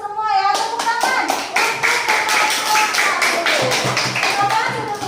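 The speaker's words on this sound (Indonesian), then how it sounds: "Tepuk tangan" A classroom of students claps in unison after a group presentation, a brisk run of sharp, rhythmic claps that starts after a brief pause and continues evenly to the end, with children's voices faintly underneath.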